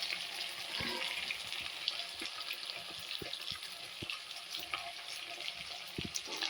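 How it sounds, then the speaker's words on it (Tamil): Potatoes and green beans frying in a pan for a spring onion dish, a steady soft sizzle and crackle with occasional light stirring clicks, close and moderately quiet, with no talking. "உருளைக்கிழங்கும் பீன்ஸும் நல்லா வதங்கி வரட்டும்."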